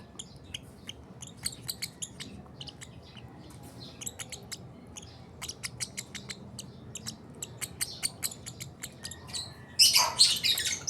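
A pet baby bird chirps in its cage with quick, thin, repeated tweets, faint and scattered at first, then louder and denser in a closing burst of calls.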